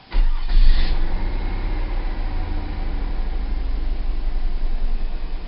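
A 2001 Mazda Millenia's warm engine cranks briefly and catches, then settles into a steady, rumbling idle close by.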